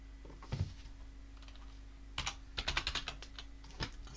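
Quick bursts of keystrokes on a computer keyboard, close and fairly quiet, arriving in short irregular clusters with brief pauses between them and no talking.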